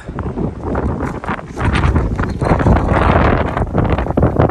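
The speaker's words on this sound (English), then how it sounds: "Windy again." Strong gusting wind in the Brecon Beacons buffets the microphone with loud, rumbling blasts that swell and persist throughout, no voices present.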